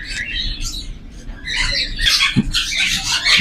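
A blue mong pet bird squawks loudly in a bird shop, with harsh bursts and chirps among other birds and a brief thump, growing denser toward the end.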